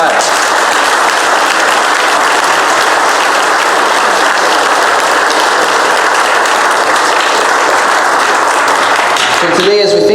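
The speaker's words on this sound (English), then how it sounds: "Let's give Karen a round of applause." A crowd claps loudly and steadily, sustained applause filling the whole stretch before it cuts off at the very end.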